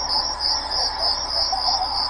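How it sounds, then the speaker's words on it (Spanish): Crickets played through a 2024 Kia Seltos SUV's nature-sound system, a steady high shrill chirring that pulses evenly and continuously at a close, even level with no voices. "O grillos,"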